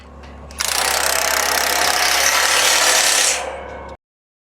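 A power tool runs in one loud, steady burst of about three seconds, tightening bolts on a Strobel Super Shade structure; it is close and continuous, then winds down and cuts off.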